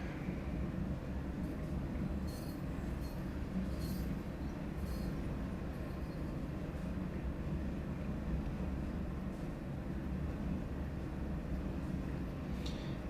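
A pair of diesel locomotives moving on the Sand Patch Grade in Train Sim World 2, heard as a steady, low, droning engine rumble that holds constant throughout, with faint intermittent clanks above it.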